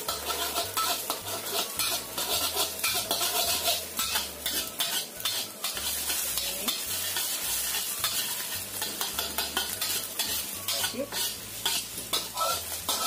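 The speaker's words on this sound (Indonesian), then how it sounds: "Setelah kira-kira panas, ini telurnya kita goreng." Eggs scrambled and fried in oil in a pan give a steady, close sizzle with repeated stirring and scraping from start to end, over a low rhythmic background of music, with no talking.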